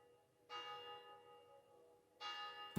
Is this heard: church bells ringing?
yes